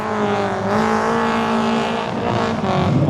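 Cars at a car meet featuring older cars and a Skyline R34, giving a loud, steady engine drone with harmonic hum, closely recorded and continuous throughout, with no talking.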